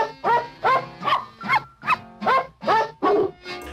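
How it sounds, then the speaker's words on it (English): Dogs bark out a tune, a 1955 RCA novelty record medley of Pat a Cake, Three Blind Mice and Jingle Bells, eight evenly spaced pitched barks in a steady melodic rhythm, clear and close. "a barking medley of Pat a Cake, Three Blind Mice, and Jingle Bells was recorded by RCA Records"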